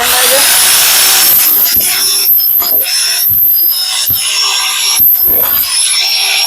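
A Total/Incco 1050 rotary hammer drill runs with a loud, close, high whirring roar that dips briefly several times, while someone talks over it.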